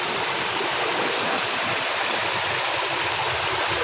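Floodwater from a typhoon rushing steadily through a flooded area, a dense unbroken roar with no voices.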